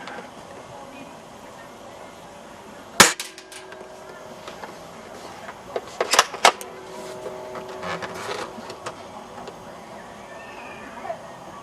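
CYMA M1 Carbine airsoft rifle firing at a bin, several sharp snapping shots spaced seconds apart with short clattering impacts, fairly faint against a quiet outdoor background.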